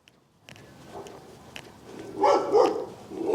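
A dog barks outdoors in Hollenbeck Park in Boyle Heights, a few muffled, fairly distant barks building in loudness over a few seconds with no speech.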